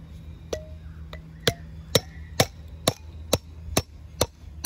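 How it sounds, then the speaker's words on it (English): Hammering chicken wire into a raised garden bed outdoors, a series of about ten sharp, close metallic-wooden strikes at a steady, slightly quickening pace, with no talking. "About to hammer the other side in."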